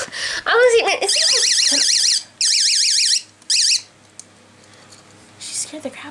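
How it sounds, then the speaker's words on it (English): A personal rape alarm shrieks in loud warbling siren bursts, three blasts cut off as it is switched off and on, with excited voices and laughter around it. "this is my rape alarm"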